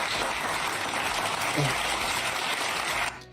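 Round of applause on a live game show stream, dense and steady clapping for about three seconds before cutting off abruptly into quiet.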